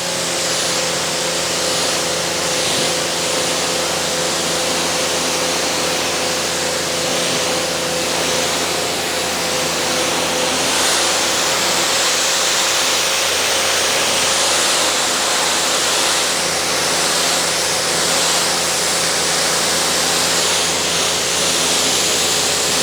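Steady broadband rush of a pressure washer spraying water onto a car panel coated with Katiba's Red Line product, continuous and fairly loud for the whole stretch with a faint motor hum beneath and no talking.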